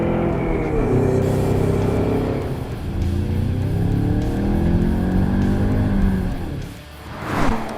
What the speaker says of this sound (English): You'll want to budget for an exhaust upgrade or maybe the available 5-liter Coyote V8 unless you're okay with this dull hum at full throttle.